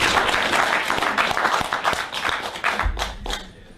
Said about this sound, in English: If you want to clap, it's okay.